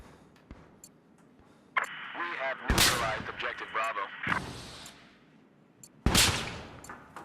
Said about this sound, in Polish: Ktoś przy mnie tu strzela.